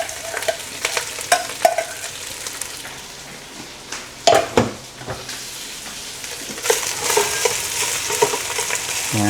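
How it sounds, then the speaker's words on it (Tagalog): Leftover white rice is stirred in a pan with olive oil, salt and garlic, giving a close, steady sizzle broken by scraping and clattering stirs. "So, mix-mix lang natin siya until well combined yung olive oil, yung salt, and yung ating garlic sa ating white rice."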